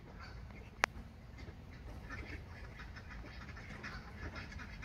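Ducks at a lake, with soft scattered quacks and calls over a steady outdoor background, one sharp brief click near the start, no talking.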